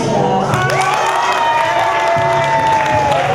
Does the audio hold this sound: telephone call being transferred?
no